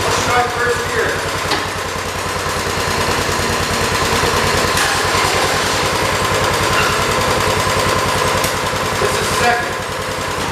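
A 1977 John Deere 212 lawn tractor's small engine chugs loudly in first gear after sitting five years, its rapid, even firing pulses close and constant, with faint talk underneath.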